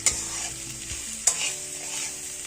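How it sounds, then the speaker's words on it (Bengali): Moong dal is stir-fried in a pan, giving a steady sizzle with scraping spatula strokes and two sharp clinks against the pan, close and clear with no talking. "মুগের ডালটা দিয়ে এবার আমি একটু ভালো করে কষিয়ে নেব।"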